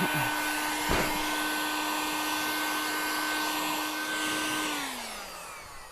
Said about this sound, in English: Just going to use the heat gun, dry it off a bit better.